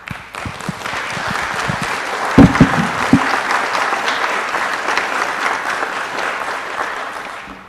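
Sustained applause from an audience at a city council meeting, a steady dense wash of clapping filling the room, with a few louder, closer claps standing out near the middle.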